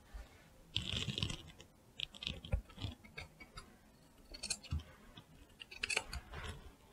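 Scissors snip through jacket lining fabric in a quiet workroom, giving a series of faint, irregular crisp cuts close by, with short pauses between strokes.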